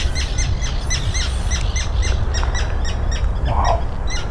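Wild birds chirping and calling in the outdoors near Irkutsk, Siberia, with repeated short tweets layered over steady background noise and a few scattered louder calls.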